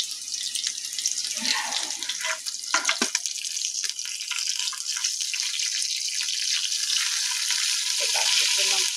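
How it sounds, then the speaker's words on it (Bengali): Bata fish fry in a hot pan, giving off a constant bright sizzling hiss that grows steadier throughout, with a few soft clatters near the start. "এখানে বাটা মাছটা ভাজছি"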